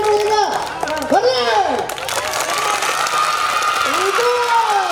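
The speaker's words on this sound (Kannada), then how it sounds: "ಅವ್ರಿಗೆಲ್ಲ ಜೋರಾದ ಚಪ್ಪಾಳೆ ಬರಲಿ" A crowd at a Navratri festival show claps loudly for the women, with dense clapping and some cheering under a loud amplified voice talking.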